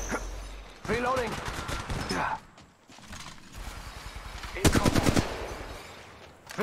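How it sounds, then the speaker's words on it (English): Bursts of automatic gunfire from the mobile battle royale game Apex Legends Mobile, with mechanical clicks of reloading and a voice speaking over the action; a dense rapid burst stands out near the end. "Firing. Reloading."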